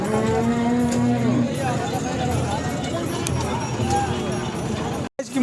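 Khillar cows at a busy cattle market in Sangola, with low moos and hoof clatter under steady crowd noise and close talk throughout.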